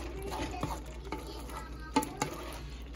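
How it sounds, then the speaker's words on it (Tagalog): Spicy laing with dilis being stirred in a cooking pot, soft scraping and knocking of a spoon against the pot over a low simmering sizzle, close but quiet. "Haluin lang natin guys para maluto yung mabuti yung nasa ilalim"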